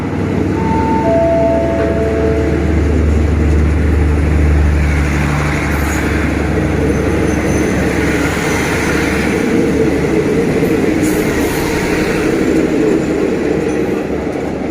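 A passenger train pulling out of Ratchaburi station in Thailand gives a loud, steady, close rumble of rolling wheels and engine. Short tonal hums rise early on, and the noise holds without a break, with no voices.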